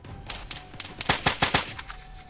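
Rapid bursts of rifle fire from an enemy-clearing firefight in the military shooter Arma 3, a string of close, sharp shots in a quick irregular rhythm, peaking mid-burst, with no voices.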